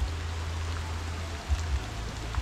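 Steady rain and light drizzle fall outdoors during a stormy typhoon spell, a continuous soft hiss with a low rumbling wash, heard alone with no voices.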